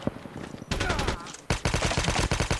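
Rapid automatic gunfire in the mobile shooter Call of Duty Mobile, dense bursts of shots in quick rhythm, close and loud, with a short pause between two sustained volleys.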